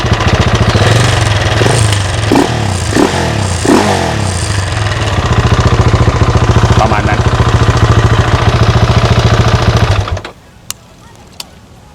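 A Yamaha Exciter motorcycle with its stock, unmodified exhaust idles loud and close with a steady throbbing putter for about ten seconds, then cuts off abruptly, leaving near silence broken by two sharp clicks.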